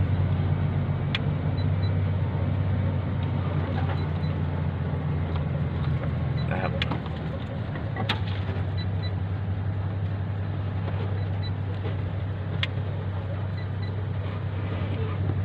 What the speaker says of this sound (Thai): รถมารอเยอะครับท่านผู้ชม